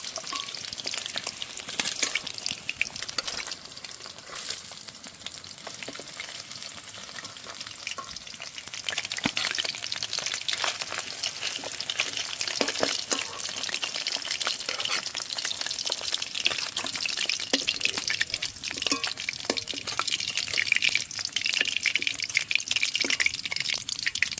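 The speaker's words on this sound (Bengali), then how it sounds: "বন্ধুরা, মাছগুলো হালকা করে ভেজে নিয়েছি, এবার তুলে নেব।" Hilsa fish pieces fry lightly in hot oil in a pan, giving a continuous close crackling sizzle with occasional louder spits that holds steady throughout, with no talk.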